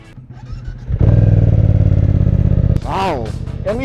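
A BMW F900R motorcycle fitted with carbon fairings and a carbon fender revs loudly and steadily up close at the start of a test ride, then settles into a lower engine note as a rider's voice breaks in over it.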